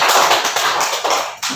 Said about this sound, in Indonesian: Tepuk tangan ke semuanya.